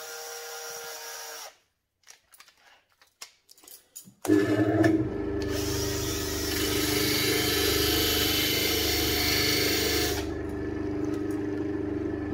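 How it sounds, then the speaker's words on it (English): A battery drill spinning small screws to sharpen their heads whirs steadily for several seconds after a few short clicks and taps, its motor hum loud and close, then eases slightly toward the end. "So to sharpen the heads of the screws, I just put them in my battery drill"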